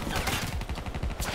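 Gunfire aimed at the player in a video game: a dense, rapid burst of shots packed tightly together, loud and close, filling the short moment without pause.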